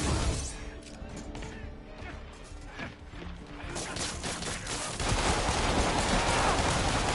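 A web bomb goes off in a Spider-Man video game: bursts of crashing, gunfire-like impacts amid loud action noise, swelling into a dense, sustained roar in the second half.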